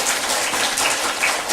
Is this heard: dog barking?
no